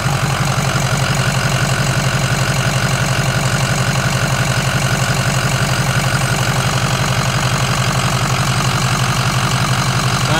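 A Ford 6.0 Powerstroke diesel engine idles steadily and close up, a loud, even, continuous rumble with a fine rapid clatter running unchanged throughout and no voices over it.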